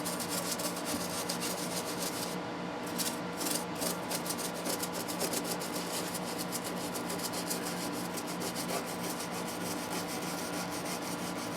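A toothbrush with Simple Green scrubs a rosewood fretboard on a 2019 Fender Pro Stratocaster, giving a steady, close, continuous rasping rub that runs the whole time with no talk.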